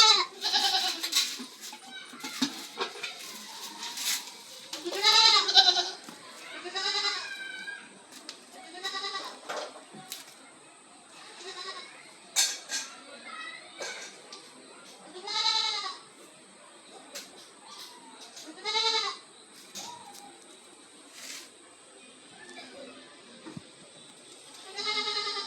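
A mother goat calls out with repeated bleats at irregular intervals, some near and loud, others fainter, over a quiet rural background.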